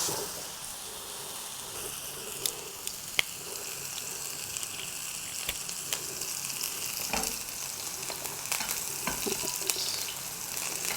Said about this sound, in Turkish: soslamış etimizi mühürlemek üzere kızgın yağımıza atıyoruz